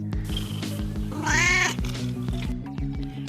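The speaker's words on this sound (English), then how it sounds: "today our guest, I'm quite excited, is Princessa Anakin, the kitten most cute" A kitten meows loudly and close up, one drawn-out, wavering cry in the middle, over a steady low rhythmic hum in the background.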